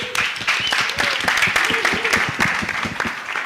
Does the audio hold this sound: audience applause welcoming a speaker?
yes